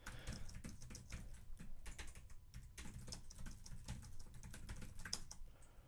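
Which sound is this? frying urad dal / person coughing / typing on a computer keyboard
typing on a computer keyboard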